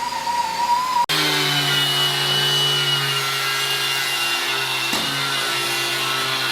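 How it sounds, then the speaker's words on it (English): A grinder working down welds on the body of a 1963 Thunderbird, a continuous loud whining drone with steady tones, briefly cut near the start, then running on alone. "grinding down some of those welds so we can start doing body work"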